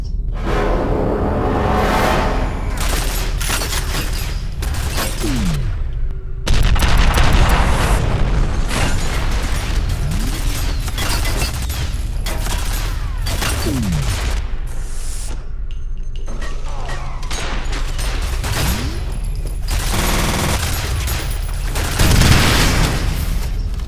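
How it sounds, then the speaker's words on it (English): Automated gun turrets in the video game F.E.A.R. fire in loud, sustained barrages of booming shots and bursts, with dense rapid fire continuing through the clip and a few heavier blasts. "Those turrets will mow you down more than 10 soldiers."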